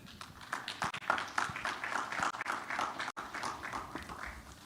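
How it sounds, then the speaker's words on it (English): An audience applauds to welcome a speaker at a live conference on Africa's creative economy. Dense, steady clapping continues for several seconds with no talk over it. "Make the applause loud, longer."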